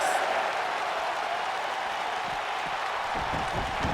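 A wrestling crowd at a DCW Blast event roars and applauds in a continuous, loud wash of cheering and clapping that holds steady across the whole stretch.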